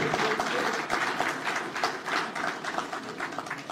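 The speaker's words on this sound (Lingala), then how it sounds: "Encore applaudissements, s'il vous plaît." Audience applause fills the hall after a speech at a political gathering, a dense, continuous wash of clapping at steady loudness with no speech over it.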